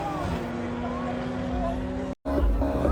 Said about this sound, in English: And there goes the Audi RS5